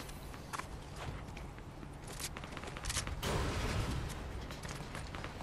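Gunfire in Fortnite during a duos match: scattered sharp shots and bursts over a busy background of game sounds and footsteps, with a louder cluster near the middle.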